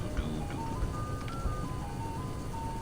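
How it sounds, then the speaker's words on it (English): An ice cream truck's tinny chiming jingle drifts through the horror video game Captain Willie, a faint, wavering melody under steady background noise and a few soft knocks. "I'm just going to think there's going to be ice cream trucks constantly coming after me."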